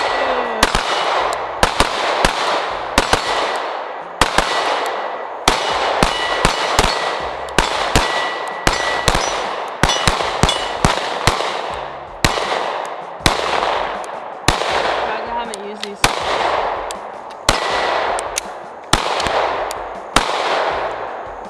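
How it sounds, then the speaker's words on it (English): A Sig P365 Macro pistol fires a long string of sharp, loud gunshots outdoors, spaced at irregular intervals of roughly a second, each with a short echoing tail. "Go for a couple shots."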